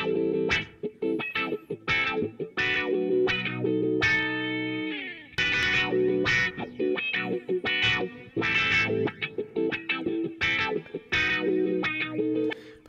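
Distorted electric guitar playing a busy riff of chords and single notes, loud and alone with no drums, carrying a spacious, bright reverb from a Waves Manny Marroquin plug-in that trails after each hit.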